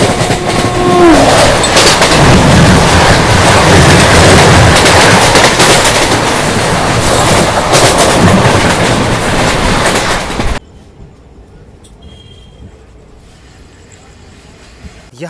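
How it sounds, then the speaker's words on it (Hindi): Varanasi–New Delhi Mahamana Superfast Express rushing past near Jaunpur, a loud steady roar and clatter of wheels for about ten seconds before cutting abruptly to quiet station ambience. "और अब बारी है 22417 वाराणसी न्यू दिल्ली महामना सुपरफास्ट एक्सप्रेस से क्रॉसिंग की"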